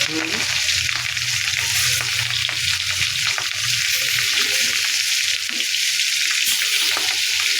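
Katla fish pieces frying in hot oil on a tawa give a loud, continuous, dense sizzle and crackle, close-up and steady throughout.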